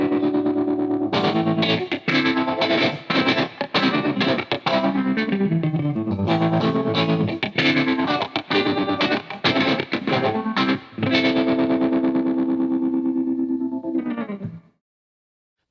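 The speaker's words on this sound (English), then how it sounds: "The flying pan square wave type of phaser becomes more apparent as you turn up the depth and the speed" Guitar run through a flying-pan square-wave phaser at fast speed, distorted chords chopped into rapid pulsing bursts that swirl and stutter, loud and alone before cutting to silence at the end.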